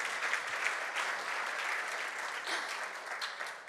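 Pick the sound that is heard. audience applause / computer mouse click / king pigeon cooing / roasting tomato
audience applause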